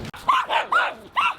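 Several dogs in a home give four quick, close barks and yips in an uneven rhythm, fairly loud with no talk over them.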